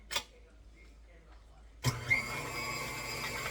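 A stand mixer creaming a pound of butter for a homemade pound cake: after near quiet, the motor kicks on abruptly and settles into a steady, close whirring hum.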